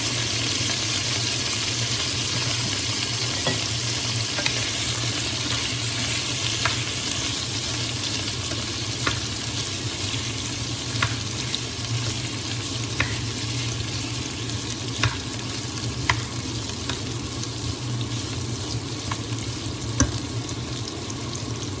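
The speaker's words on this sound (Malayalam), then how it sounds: "അപ്പോൾ എണ്ണ ചൂടായി വന്നിട്ടുണ്ട്. അതിനകത്തേക്ക് നമുക്ക് കിഴങ്ങ് ഇട്ട് കൊടുക്കാവേ" Potatoes frying in hot oil give a steady, dense sizzle that runs throughout, with scattered sharp pops and crackles rising above it and no voices.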